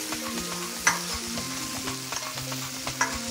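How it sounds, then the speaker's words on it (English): Tomatoes and garlic sweat in a hot pan with a loud, continuous sizzle, and sharp utensil clinks and scrapes break through now and then. "Once you get your tomatoes sweating off with the garlic,"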